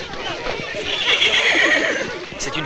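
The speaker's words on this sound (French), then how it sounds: "C'est les chevaux des écuries!" Horses in stables whinny and neigh loudly and close by, with hoof clatter and excited voices mixed in throughout.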